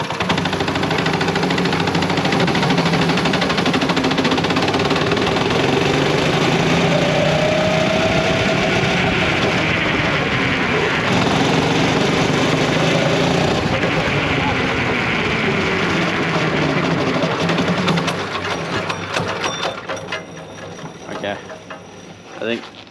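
A small engine on a motorised esky runs loud and close with a rough, uneven drone that wavers and knocks, easing off and sputtering near the end; a voice briefly cuts in.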